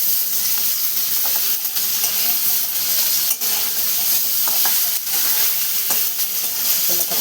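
Bitter gourd cooking in masala in a pan gives a steady close frying sizzle and hiss, with faint stirring clicks and scrapes scattered through, no talking.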